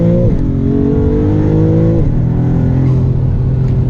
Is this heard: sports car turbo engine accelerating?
yes